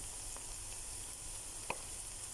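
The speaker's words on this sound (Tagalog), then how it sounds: "Magsangag tayo ng kanin." Garlic fried rice with onion sizzles in a pan: a steady, even hiss of frying throughout, with one soft knock of stirring partway through.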